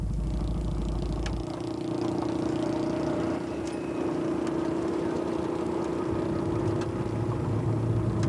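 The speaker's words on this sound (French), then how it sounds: "je vais mettre en marche le moteur et on est parti pour un petit tour" A small boat's motor runs steadily after being started for a short trip out, a constant mid-pitched drone with a faint hum, fairly close and unbroken throughout.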